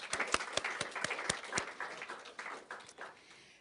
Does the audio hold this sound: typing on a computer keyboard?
no